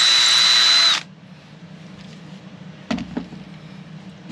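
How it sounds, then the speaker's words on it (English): A power drill bores screw holes into a Strat-style guitar body in one loud, high-pitched whirring burst of about a second, then stops, leaving quiet workshop handling noises and a couple of soft knocks. "I'm going to take my drill bit and I'm going to drill them out"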